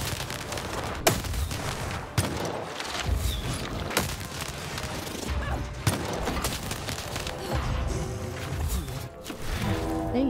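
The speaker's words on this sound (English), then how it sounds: "I did shoot him." Repeated gunfire from combat in the video game Lost in Random, a dense stream of loud shots and impacts over a rumbling game score, with sharp bursts around every second or two.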